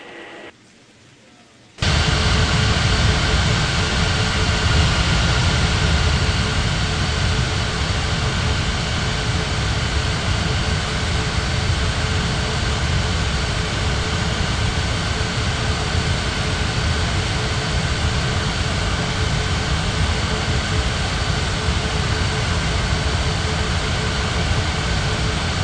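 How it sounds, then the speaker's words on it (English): Air Transat jet airliner taking off in an air traffic control game, a steady loud broadband engine roar that starts abruptly after a brief quiet moment and holds constant. "Takeoff on 30 left, Air Transat 7313."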